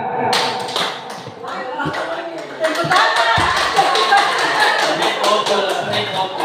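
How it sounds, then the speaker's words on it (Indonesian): An audience of adults at a training session claps in bursts of sharp, close hand claps during a clapping game, with voices talking and calling out between and over the claps. "Tepuk tangan."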